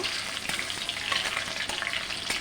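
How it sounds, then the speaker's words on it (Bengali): Dried red chillies, chopped ginger and bay leaf fry in hot oil as a tempering for moong dal, a close, continuous crackling sizzle dotted with small pops. "আদা কুচি ফোড়ন তেজপাতা দিয়ে দিয়েছি শুকনা লঙ্কা তেলে অল্প করে বেজে নেব"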